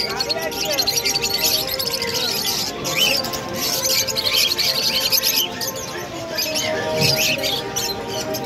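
Caged exotic birds at a Kolkata bird market chirp and tweet constantly in a dense, overlapping chorus, high and busy throughout, with voices in the background.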